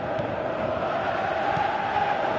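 A stadium crowd in a football video game roars in a steady, dense wash of cheering that holds at an even level throughout, with no clear commentary over it.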